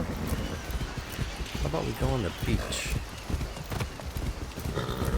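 Hoofbeats of a video game horse clip-clop steadily, with a brief whinny rising midway, while a player talks over the game audio.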